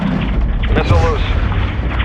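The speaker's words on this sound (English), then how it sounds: "Missile loose." A missile launch in a video game, a deep continuous rumbling roar that fills the short moment, with a voice talking over it.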